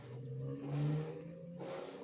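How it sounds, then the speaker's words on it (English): A car engine revs in two short swelling bursts close by, rising to a strong roar and then easing between them, with no talking. "Fucking engine sound."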